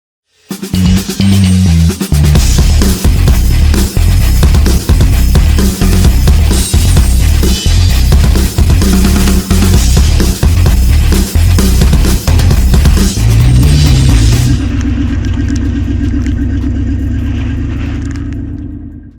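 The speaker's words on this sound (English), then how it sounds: "air compressor going off" A loud, close air compressor motor chugs in rapid regular pulses for several seconds, then cuts off and winds down into a fading hum.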